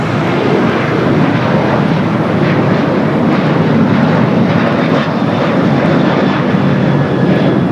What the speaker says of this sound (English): Next takeoff, Alaska Airlines Flight 1339 heading to SFO is